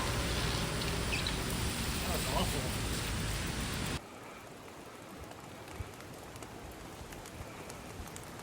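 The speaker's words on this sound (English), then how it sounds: "as soon as we left, it started pouring down rain" Heavy rain pours down during a cycle tour in Taiwan, a loud, dense hiss that suddenly drops to a quieter, softer patter halfway through, with occasional small knocks.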